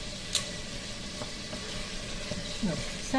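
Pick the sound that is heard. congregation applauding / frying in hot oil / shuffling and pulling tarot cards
frying in hot oil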